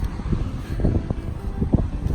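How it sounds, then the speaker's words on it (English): Wind buffets the microphone on a beach after a storm, a low rumbling gusty roar with irregular thumping peaks, close and continuous with no talk. "It's not cold, it's just windy."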